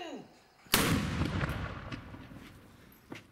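A ceremonial Böller cannon fired at a historic shooting festival in Wennigsen: one sudden, sharp blast after a brief quiet, then a long rolling echo that fades away, with a fainter crack near the end.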